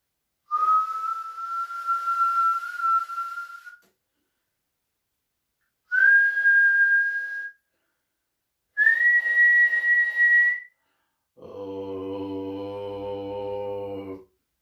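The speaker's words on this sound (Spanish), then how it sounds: "voy a silbar un poco para que veas cómo se hace distinta esa señal" A person whistles several sustained tones, each held a second or more with pauses between, ending on a lower, buzzier hum-like note.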